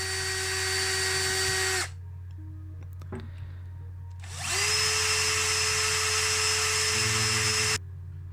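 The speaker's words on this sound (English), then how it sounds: "So of course we'll go with the drilling methods as usual." A power drill bores into a 1986 Matchbox Rolls Royce Silver Spirit die-cast toy car in two loud, steady whining bursts separated by a short pause with faint handling clicks.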